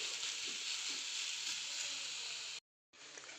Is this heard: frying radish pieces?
yes